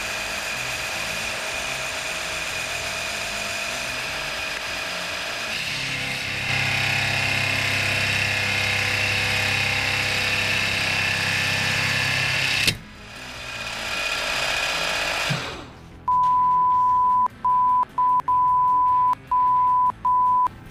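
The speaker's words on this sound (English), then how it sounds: "I'm gonna be using one of these roughing end mills to get a shitty finish on purpose" Roughing end mill cutting an aluminum intake for a big-bore stroker 277 engine, a steady high machine whine and grinding chatter that abruptly stops, then a quieter spin-down and a series of electronic beeps; no talking.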